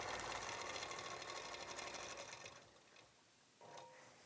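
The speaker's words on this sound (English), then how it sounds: "I am just stitching in the ditch here on these sides" A quilting sewing machine runs a steady, fast stitch in the ditch along quilt seams guided by a ruler, humming continuously at close range before slowing and briefly stopping, then starting again.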